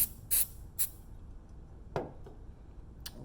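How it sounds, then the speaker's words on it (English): A few brief, close hissing spray bursts of glue accelerator, then small clicks and a faint final puff in an otherwise quiet room. "And another little spray."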